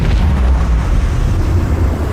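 Macro cannons firing in the Warhammer 40k game Rogue Trader, a loud continuous low rumbling boom that rolls on without a break, deep and heavy throughout.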